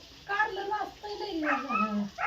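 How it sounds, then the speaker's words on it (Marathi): A dog lets out a couple of close, whining, yelping barks in quick bursts, loud and near, with no other sound competing. "तू कुत्री कशी वारडायला लागली"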